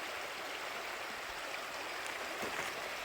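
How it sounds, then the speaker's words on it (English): River rapids rushing steadily along a hiking route near the Eastern Continental Divide, a constant broadband wash of flowing water, moderately close and unbroken with no voices. "So I think we're gonna try these rapids."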